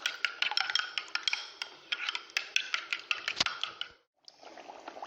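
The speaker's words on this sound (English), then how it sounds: "So I'll now pour my beaten eggs into the stew this way." Beaten eggs poured into a simmering stew for plain rice give a dense, crackling sizzle of quick clicks and pops that cuts out briefly near the end, then resumes more softly, with no talk.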